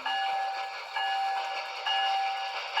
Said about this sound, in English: I'm gonna do F1, which is bell.